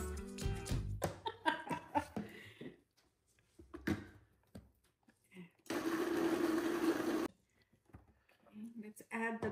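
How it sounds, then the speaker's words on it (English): A kitchen blender whirs for about a second and a half, loud and steady, blending sauce ingredients with oil, salecita and salt between bursts of talk and laughter. "Let's blend these."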